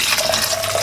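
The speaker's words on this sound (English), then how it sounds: "now we're going to pour the rest of our milk in" Milk poured into a whisked sauce makes a steady close trickling splash through a short moment, with no talk.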